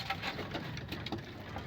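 Soft cooing of racing pigeons over a quiet background, a few low, rounded calls repeating, with no talking.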